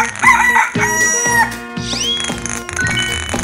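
Rooster crowing with chicken clucking, a cartoon farm animal sound set against loud, steady music; the bird calls rise over a busy musical backing.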